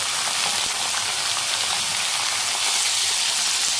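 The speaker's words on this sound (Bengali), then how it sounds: "এই যে সবজিটা ভালো করে একটু ভেজে নেব" Vegetables frying in a pan make a loud, continuous hissing sizzle, close and unbroken for the few seconds, with no voices.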